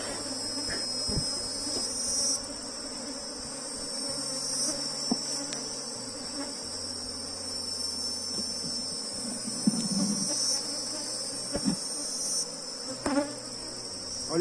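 Bees buzz steadily around a hive frame being lifted from a box, a dense insect hum holding throughout with a few light knocks and handling clicks, no talk.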